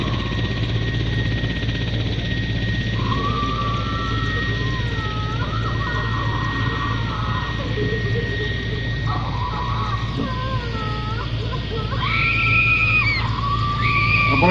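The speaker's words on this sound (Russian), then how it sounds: "Please watch, the helicopter is preparing to take off." A military rescue helicopter sits running at a multinational training exercise, readying for takeoff after casualties are loaded, its steady engine and rotor drone loud and continuous throughout, with faint whistling tones rising over it.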